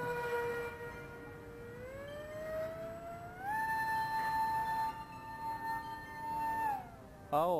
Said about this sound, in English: I really love the sound of this three blades prop